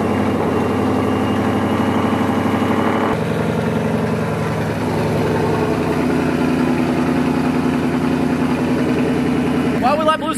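A Ford Mustang engine running loud and close, a deep harmonic rumble that shifts pitch after about three seconds and holds steady, with a brief sharper burst near the end.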